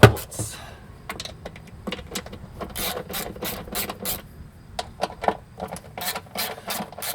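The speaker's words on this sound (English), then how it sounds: "it's a pretty straightforward process of just unscrewing all these little annoying 8mm" A ratchet loosens small 8mm bolts on a side-by-side's CVT cover in rapid clicking runs with brief pauses between them, close up and with no talk.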